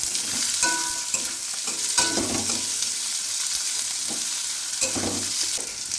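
Thick-sliced onions stir-frying in a pan for chilli chicken, a steady sizzle broken by a few clattering stirs of the spatula, close and fairly loud with no talk.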